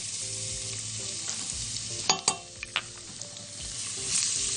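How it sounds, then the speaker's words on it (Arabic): Garlic toasts in two spoonfuls of ghee in a pan, giving a continuous close sizzle with a few sharp scrapes of stirring in the middle. "نحمص الثوم"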